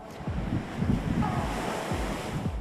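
Ocean surf washes steadily onto an eroding beach in Geraldton, where the sea has eaten away a coastal road, with a constant roar of waves and wind buffeting the microphone.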